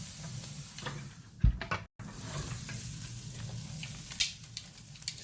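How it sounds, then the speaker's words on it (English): Wagyu ribeye steaks searing over direct heat on a grill, a steady hissing sizzle with brief clatters and a short break partway through, close and continuous. "make sure we get a good sear."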